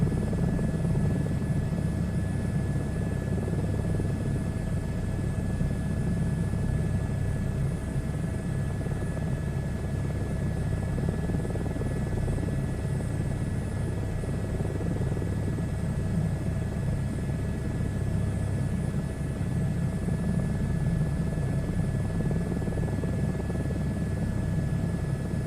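Helicopter in a VR flight simulator game, a steady loud rotor and engine rumble droning without a break, with faint radio-style tones holding constant above it.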